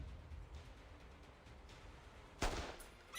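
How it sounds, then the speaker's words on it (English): A gunshot from the video game Reverse 1999 fires nearby, a single sharp loud crack landing against stone, standing out suddenly over a quiet ambient background. "A gunshot hammers out nearby, a shot landing in one of the stone Kiktuk."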